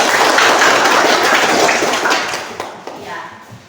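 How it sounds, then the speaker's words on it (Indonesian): A classroom full of students applauds together, a dense burst of clapping that thins and fades out over a few seconds. "Tepuk tangan untuk kita semua."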